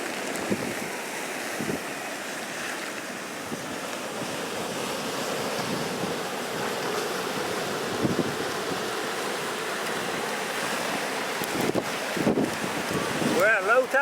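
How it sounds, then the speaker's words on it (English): Wind and waves on the shore at low tide: a steady, close roar of surf with wind buffeting the microphone throughout, growing slightly louder near the end. "The wind should be laying these waves down."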